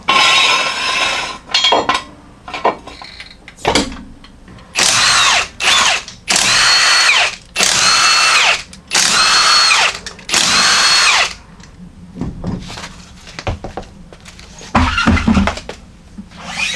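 Impact gun or power drill spinning off lug nuts on the front wheel of a jacked-up Jeep XJ, in about five loud, close bursts of a second or so each, separated by short pauses and clinks.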